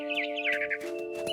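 A mama bird calls in the video game What Remains of Edith Finch, a short chirping warble over a sustained musical drone.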